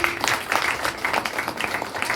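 Audience at a Christmas celebration clapping in welcome, a steady spread of many hands patting together throughout, moderately loud and fairly close, with no talking over it.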